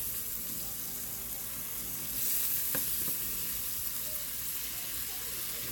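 Squash frying in a pan gives a steady, soft sizzle that swells briefly as more pieces go in, with a faint clink partway through, fairly quiet and continuous.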